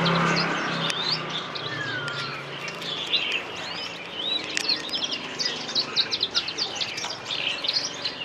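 A dense chorus of many caged songbirds, including canaries, chirps and trills at a Van Phuc antique market in Ha Dong, Hanoi, a constant overlapping twitter with louder close calls above a busy background hum.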